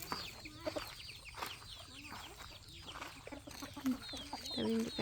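Chickens cluck repeatedly nearby at a farm, with a series of uneven, overlapping calls and a louder burst toward the end over faint background noise.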